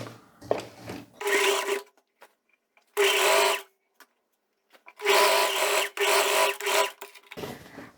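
A sewing machine stitches the side seam of a viscose-linen jumpsuit in several rapid whirring bursts of one to two seconds, separated by quiet pauses with small handling clicks, close and clear with no talking.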